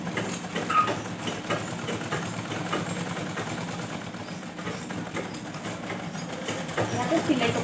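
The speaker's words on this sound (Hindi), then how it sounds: "इस तरह से मैं सिलाई कर रही हूँ।" A sewing machine stitching a blouse runs in a steady rapid mechanical whir, moderately close and continuous, with someone speaking over it.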